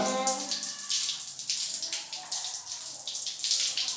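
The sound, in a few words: water running from a tap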